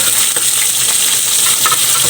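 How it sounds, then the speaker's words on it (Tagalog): Onion dropped into hot cooking oil in a pan sizzles loudly and steadily, with a broad hiss and occasional sharper crackles and stirring clicks, close up and with no talking. "Ilagay na natin yung sibuyas natin."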